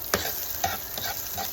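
Turmeric and ginger sautéing in a pan for kinunot na bangus, a steady close sizzle with a couple of sharp stirring scrapes over a short stretch, no voices.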